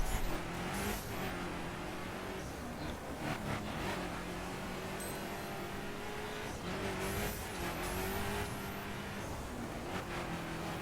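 A racing SUV engine drones and revs on dirt in The Crew video game, a continuous loud whine with gear shifts and tyre scrabble, no talking.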